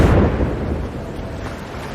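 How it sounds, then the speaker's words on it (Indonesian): A bus engine blows up with a loud, heavy boom at the start that rolls into a long, fading rumble, with no voices heard. "tiba-tiba saja terdengar suara ledakan dari mesin bus"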